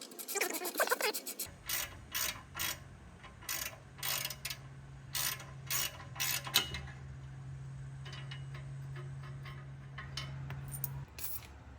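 A ratchet wrench clicks in quick repeated bursts, close up, loosening exhaust bolts on a 2000 Subaru Impreza 2.5RS during a cat-back exhaust install, with pauses between bursts over a steady low hum.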